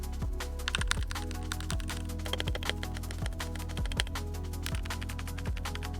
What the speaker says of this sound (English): take a listen to this keyboard noise